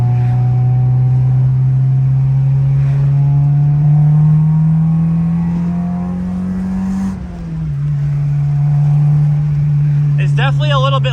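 A car with exhaust leaks drives along with a loud, steady engine drone up close. The pitch climbs and falls as the engine revs, then settles back into a constant hum.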